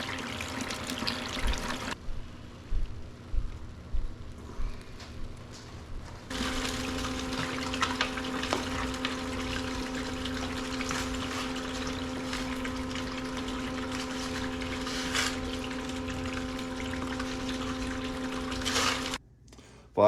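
Water pumped through a gold cleanup sluice runs fast with a steady rushing, trickling flow and a constant pump hum, broken by gurgling bursts early on, then holding even and close for most of the stretch.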